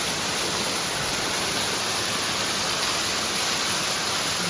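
A night-time waterfall in Rubi Valley pours out a constant, dense hiss and roar, unbroken and even throughout.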